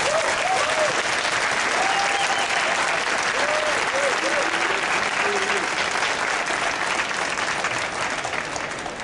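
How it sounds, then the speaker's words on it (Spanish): Sustained, loud audience applause at a talk with comic artist Mike Mignola, a thick wash of clapping that holds steady throughout, with brief voices and a few tonal sounds near the start. "Dale un fuerte aplauso"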